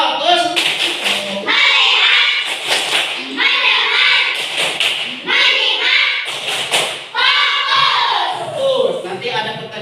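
A class of schoolchildren performs a rhythmic clapping routine led by a teacher, with bursts of sharp patterned claps separated by short pauses and chanting voices between them.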